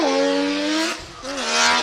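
Formula Drift car in qualifying at Ebisu, Japan, rolling slowly into a drift and rotating toward the outside zone: a loud, close engine drone holds steady tones, dips briefly, then rises again amid broad tire noise.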